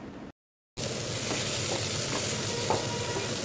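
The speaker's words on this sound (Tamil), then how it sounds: "தக்காளியை நல்லா வதக்கி விட்டுக்கலாம்." Tomatoes sauté in a pan with steady sizzling and occasional stirring scrapes, a close, even frying hiss after a short silent gap at the start.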